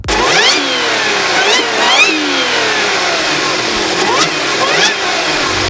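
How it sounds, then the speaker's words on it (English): Supercharged 3-liter V6 in an Audi S4, revving repeatedly in sharp rising and falling bursts with a whining tone, loud and close throughout. "Equipped on top with the supercharger that makes noises that will make you make noises."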